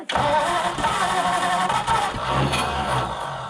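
An old Ford Flathead V8-60 hot rod engine cranks and catches, settling into a loud, rough, close-up idle with uneven rumbling pulses.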